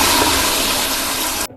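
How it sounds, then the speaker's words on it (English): A toilet flushing in a bathroom, a loud continuous rush of water lasting over a second that cuts off abruptly. "but accidentally triggered the flush"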